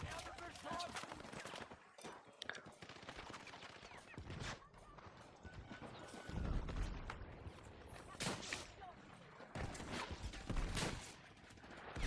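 Bursts of gunfire in the first-person shooter Battlefield 6 crack out repeatedly, with rapid volleys and single shots from near and mid distance over constant battle din, while players talk over the action.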